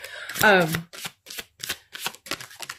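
A brief voice, then a run of quick, papery bursts in a steady rhythm as a deck of tarot cards is shuffled close by.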